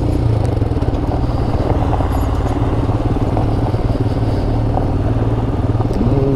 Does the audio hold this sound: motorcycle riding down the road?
yes